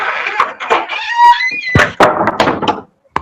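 A door is shut indoors with two solid, loud thuds and a fainter knock at the end, following a voice that sounds like a call to prayer in the background.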